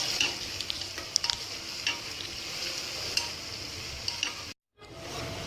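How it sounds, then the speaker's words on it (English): Onions sautéing in hot oil with bay leaf and cumin, a steady close sizzle broken by scattered stirring clicks. The sound drops out briefly near the end, then the frying resumes. "Now saute the onions until it becomes golden brown in color."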